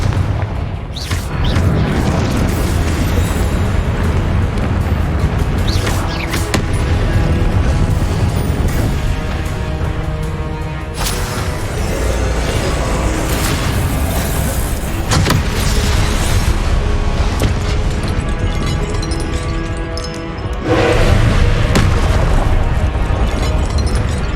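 Confringo spell blasts in Hogwarts Legacy, loud booming explosions that burst repeatedly over a dense bed of game music and rumbling effects, close and continuous throughout.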